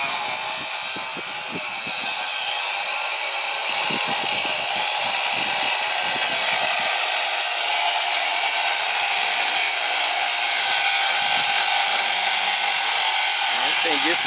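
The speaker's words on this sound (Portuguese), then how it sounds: "Minha lixadeira aguenta, coitado." An electric sander works on the front of a Busscar Volvo B7 bus, a loud continuous high whine running throughout, with people talking over it and brief thumps from the work.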